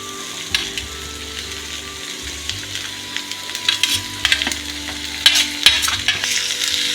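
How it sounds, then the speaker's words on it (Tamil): Sliced broad beans sauté with onion in hot oil, sizzling steadily while a spatula stirs and scrapes the pan in irregular knocks that grow busier toward the end. No one speaks. "அவரைக்காய் நல்லா வதங்கணும்."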